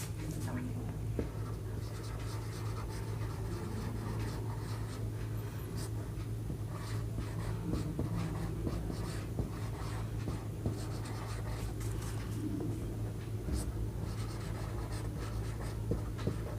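Pen or chalk writing by hand during a class 11 maths lesson on sequences and series, a soft continuous scratching that runs steadily through the whole stretch over a low constant room hum.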